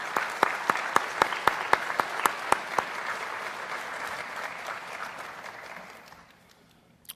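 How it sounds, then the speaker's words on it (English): A crowd applauds at a student engagement awards ceremony, several sharp, loud nearby claps standing out over a dense bed of clapping that gradually thins and dies away. "Let's give them another round of applause, please."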